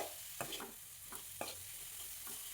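Chopped tomatoes sautéing in hot oil for a Kerala okra and tomato curry, with soft steady sizzling and a few scraping stirs of a spoon against the pan, close and alone.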